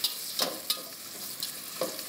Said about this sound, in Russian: Обжариваем. В данном случае не боимся золотистого цвета